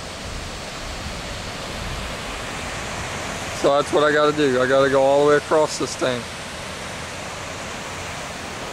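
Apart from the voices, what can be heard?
Ohio River flowing at the Falls of the Ohio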